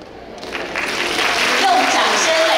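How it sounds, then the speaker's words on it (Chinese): Applause fills the hall at a school ceremony, a dense, steady wash of many hands clapping that swells slightly louder and holds, with a few voices faintly mixed in. "用掌声来代表我们自己的决心"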